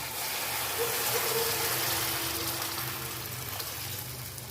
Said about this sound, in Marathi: त्यांना ह्याच्यात मी पाणी टाकणार आहे